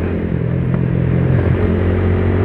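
Motorstar Cafe 150 motorcycle engine droning steadily on an open road during an endurance ride, a loud continuous low rumble with slight rises in revs and constant wind and road noise, no voices.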